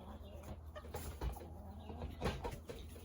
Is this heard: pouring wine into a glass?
no